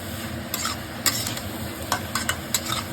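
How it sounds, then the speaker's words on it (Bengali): Pre-boiled cauliflower stalks and radish fry with mustard in a pan, giving a low sizzle under repeated scraping stirs with a utensil at an uneven rhythm; no voices. "সরষাটা দিয়ে পুরো আমি একবার ভেজে নেবো ভালো করে"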